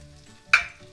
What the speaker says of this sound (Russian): жарю рыбу до золотистого цвета с обратной стороны